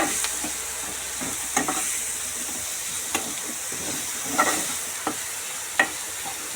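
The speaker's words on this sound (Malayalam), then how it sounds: "നന്നായിട്ടൊന്ന് വഴറ്റിയെടുക്കട്ടെ ഉള്ളി." Onions sautéing in a hot pan for a Korean-style chicken dish: a steady sizzle with intermittent sharp scrapes and clicks of a spoon stirring, close and clear, no voices.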